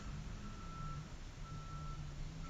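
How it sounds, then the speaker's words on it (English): A sugar truck backing up sounds a faint, distant reversing alarm: evenly spaced high beeps repeating over low rumbling background, with no talk. "You hear that beep? Someone's backing up the sugar truck."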